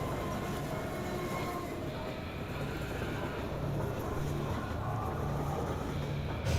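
A train in the Half-Life 2 video game, a steady dense rumble and rattle of rolling carriages that continues unbroken, loud and close, with no talking.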